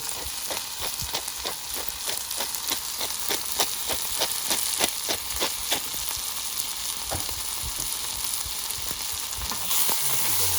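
Canned beans reheat in a pan over low-medium heat, giving a steady, close sizzle with faint scraping from stirring that runs evenly until an abrupt stop.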